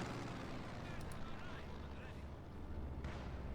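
Explosions and battlefield rumble from a Company of Heroes 2 match, a dense continuous roar of blasts and low booms filling the clip, with a commentator talking over it.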